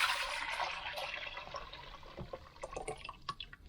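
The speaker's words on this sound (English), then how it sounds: "So I'm just gonna pour it in here." Liquid poured into a mixing bowl holding sugar, salt, cinnamon and flour for cinnamon roll dough, a steady trickling pour that thins into scattered drips and splashes, close and fairly quiet.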